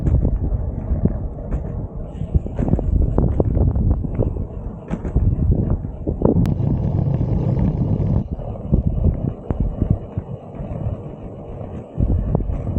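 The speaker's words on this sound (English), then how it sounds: "We got a pretty good tailwind pushing us." A tailwind buffets the microphone of a touring cyclist riding on flat ground across America, a loud, gusty rumble that swells and drops throughout the ride.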